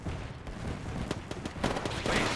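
Gunfire in an Apex Legends match: rapid, uneven bursts of shots and impacts crackle throughout, building louder and denser toward the end.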